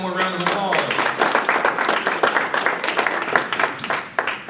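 Applause for a band at a 1 Million Cups startup community event in Cherokee, a crowd clapping in a steady patter with a voice speaking over the start.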